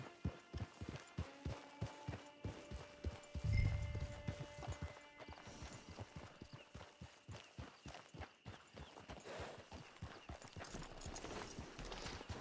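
Horse hooves clip-clop in a steady, rhythmic gait in Red Dead Online, close and clear, with a short snort or whinny early on and a faint game ambience underneath.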